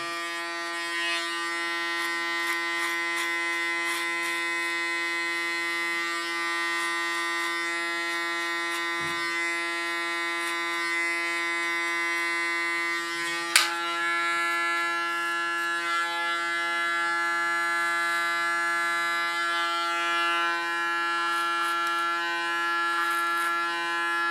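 A small electric hair clipper cleans up a contour line on a haircut, giving a steady, close, high-pitched buzz that runs unbroken throughout at an even level, with one brief sharp click partway through.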